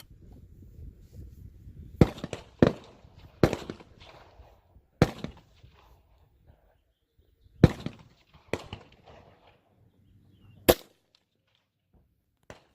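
Five or more sharp gunshots ring out at an outdoor shooting range, with rounds striking metal targets. The shots come as loud, spaced cracks separated by quiet gaps, alongside a few fainter clicks.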